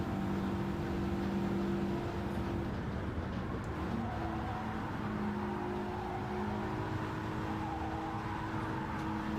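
A race car engine in Gran Turismo 7 holds a steady, sustained drone that shifts pitch slightly as the revs change, playing continuously at a moderate level with no talk.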